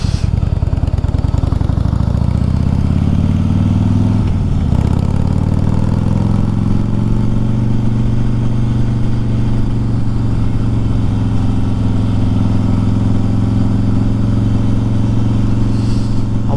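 Engine of a Harley-Davidson Softail Slim motorcycle being tested after new parts were fitted, a loud, close, steady low rumble that rises in pitch early on and then settles into an even drone, with no talking.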